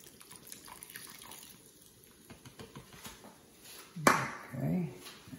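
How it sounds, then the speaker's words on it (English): Canned beer poured into a pot of spicy chili makes a brief, fairly loud splashing glug after a quiet stretch, settling into softer fizzing liquid sounds. "Now to this, I'm adding 1 can of beer."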